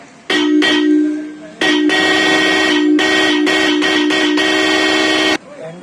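Loud aftermarket horn of the kind fitted to cars or bikes and liable to draw a traffic fine, sounding a long blast, a brief break, then a sustained run of chopped, pulsing blasts up close.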